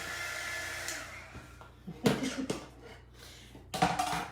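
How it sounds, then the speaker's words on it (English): A hair dryer blows with a steady whirring hiss, interrupted by a few sharp knocks and clatters nearby. "You see me whack it with my dryer, right?"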